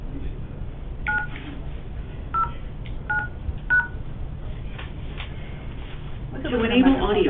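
A telephone keypad dials into a conference call, sending four short, evenly spaced DTMF beeps over a thin, phone-line hiss. A voice begins talking near the end.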